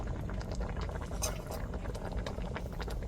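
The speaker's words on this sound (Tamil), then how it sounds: "இப்போ நல்லா கொதிக்கட்டும் கொஞ்சம் கட்டியாக வரட்டும்" Moong dal lentil stew bubbling steadily in a pot, a dense, continuous burble of small pops and gurgles, close and moderately loud, with no voices.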